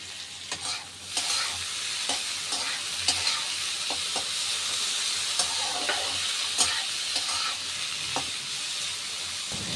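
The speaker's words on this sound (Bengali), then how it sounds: "পেঁয়াজের সঙ্গে করলাটা এবার বেশ ভালো করে নাড়াচাড়া করে মিশিয়ে নেব।" Sliced bitter gourd and onions fry in a pan for karela aloo jhal. A continuous close sizzle runs throughout, punctuated by repeated scraping stirs of a spatula.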